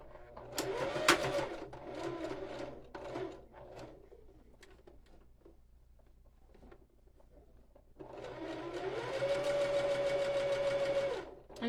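Home sewing machine stitching a close edge seam on a fabric water bottle holder, with a short burst of steady whirring, a pause, then a longer even run at a constant pitch.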